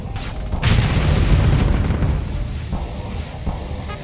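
Station weapons fire destroying enemy destroyers in the space strategy game Starsector: a heavy, rumbling barrage of booms and blasts swells loudly, then fades into lower, scattered explosive thuds.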